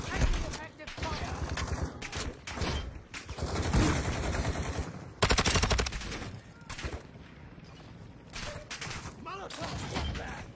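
Video game gunfire crackles in dense bursts and rapid automatic volleys, loud and close, with shouted voices mixed in throughout the firefight.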